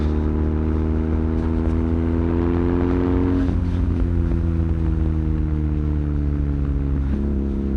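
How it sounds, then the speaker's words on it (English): A BMW R nineT motorcycle idles and revs with its exhaust baffles in, giving a steady, loud, close engine drone with deep harmonics that dip briefly near the middle and again toward the end, with no talking. "I like to keep the baffles in because I'm kind of addicted to the way the bike just sounds right now"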